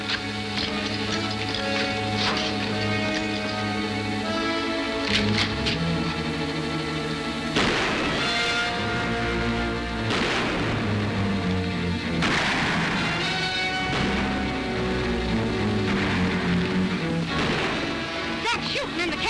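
Gunfire echoing through a canyon in a 1952 western TV show, with several sharp reports rising from a dense bed of music and dialogue that runs throughout.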